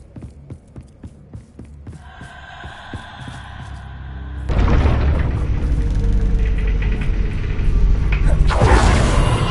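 The Confringo explosive spell from the video game Hogwarts Legacy: a rhythmic throbbing pulse is followed by a sudden loud booming burst that becomes a sustained roaring rumble, then swells again near the end.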